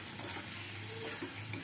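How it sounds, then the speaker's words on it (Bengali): Masala and potatoes being stirred and fried in a pan: a steady, close sizzle with faint scraping ticks from the stirring, and no voices. "আর একটু হবে মশলাটা কষানো।"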